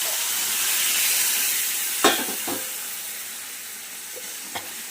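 Half-boiled papaya pieces go into a chicken curry and get stirred, giving a steady broadband sizzle with a few sharp utensil knocks and scrapes against the pot.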